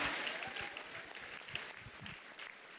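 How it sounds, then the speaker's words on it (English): Sustained applause from a large audience at a state student awards ceremony in a university hall, steady and dense clapping filling the room without pause. "I need you to give her a big round of applause"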